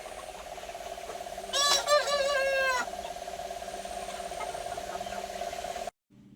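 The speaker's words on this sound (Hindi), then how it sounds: "एक मुर्गा है, कपड़े से बांधा हुआ है।" A Black Australorp rooster, tied with cloth, crows once, fairly close, over a constant electrical hum, followed by a sudden drop to near silence.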